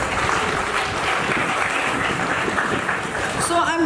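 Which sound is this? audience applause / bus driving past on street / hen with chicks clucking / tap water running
audience applause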